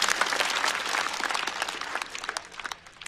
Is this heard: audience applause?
yes